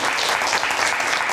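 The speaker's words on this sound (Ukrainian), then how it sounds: "я через оплески ніколи не можу говорити" Dense, loud applause from a hall audience, steady and continuous, breaking in during a political speech.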